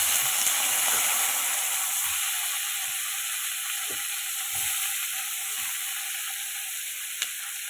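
Tomatoes sizzle in a frying pan for a home chicken curry: a loud, continuous hiss with faint scraping stir clicks scattered through it and a sharp tap near the end.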